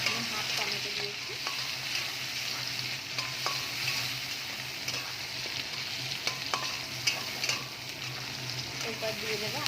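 Chopped tomato frying in a pan for a fish curry, a continuous hissing sizzle with scattered scraping and clinks of stirring, moderately close, no speech over it.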